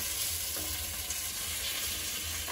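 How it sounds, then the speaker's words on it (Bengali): Vegetables fry in a pan with a steady, dense sizzle, just as tomato and green chili go in; the crackle stays even and close throughout, with faint stirring beneath. "সবজিটা প্রায় ভাজা হয়ে গেছে, এবার টমেটো আর কাঁচা লঙ্কা দিয়ে দেবো"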